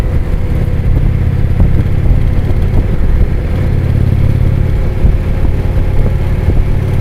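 A stock motorcycle engine revs steadily and loudly while riding, a dense continuous roar with mechanical clatter and no talk.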